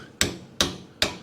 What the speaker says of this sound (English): So we'll grab a little hammer